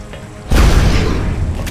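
An alloy cannon fires in the turn-based shooter XCOM: Enemy Unknown, a single loud heavy boom with a deep rumble that rolls and decays over the following second.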